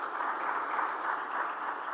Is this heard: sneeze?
no